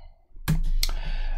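A few keystrokes on a computer keyboard, sharp clicks after a brief quiet moment followed by a low steady background, near and distinct without speech.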